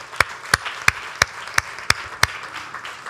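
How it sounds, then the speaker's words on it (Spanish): Sharp, evenly spaced hand claps ring out in a church worship service, about seven crisp beats at a steady rhythm over a quiet, airy background before stopping. "Dale un aplauso al Señor"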